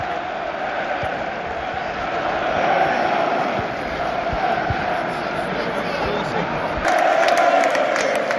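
Everton fans cheer in a football stadium at a Premier League match against Tottenham, a loud sustained roar of a large crowd that swells twice.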